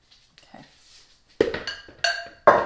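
A spatula stirs Chex cereal coated in cinnamon and melted butter in a bowl, giving three sharp scraping, rustling strokes in the second half after a few faint earlier rustles.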